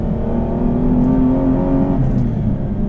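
Deep, continuous engine drone from an Aston Martin V12 Vantage S with manual gearbox while driving, heard from inside the car as a steady, loud hum without speech.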